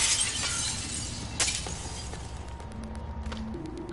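Glass shatters in the video game Prey, a sharp crash at the start breaking into scattered tinkling debris, with a second burst partway through over steady game background hum.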